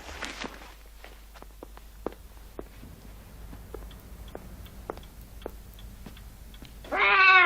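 A cat makes a meow at the very end, preceded by a series of soft footsteps and faint taps across an indoor room.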